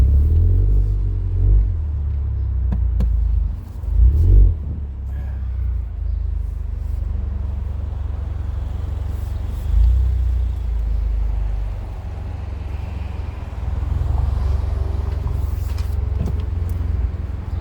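A 2020 Ford Mustang EcoBoost convertible on a test drive, heard as a steady low engine and road rumble with a few brief swells, close and continuous, with no talking.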